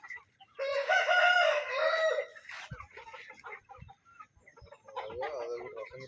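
Chickens on a poultry farm: a rooster crows loudly and close, then scattered clucks and rustling follow before a second drawn-out crow, with a person speaking in between.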